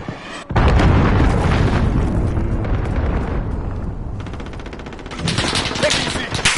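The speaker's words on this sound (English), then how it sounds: "Enemy cruise missile incoming." A cruise missile strike in Call of Duty: Modern Warfare online, a loud blast followed by heavy rumbling and crackling gunfire, with a game announcer voice speaking over the din.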